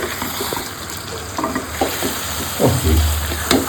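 Goat liver and chicken frying in a pan while being stirred, a soft continuous sizzle with scattered scraping and clinking from the spoon, close and moderately quiet.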